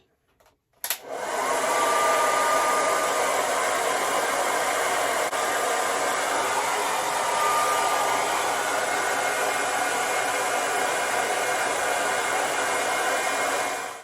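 A hair dryer fitted with a diffuser cup dries curly hair. After a brief click it starts and runs as a steady, loud broadband whoosh with no pauses for about thirteen seconds, and no voices are heard.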